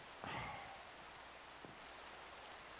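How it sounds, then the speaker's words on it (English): Steady rain hisses evenly in Minecraft, a soft constant downpour with a brief tonal game blip near the start and a faint tick later. "And it's raining."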